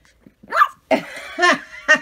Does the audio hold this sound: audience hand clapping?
no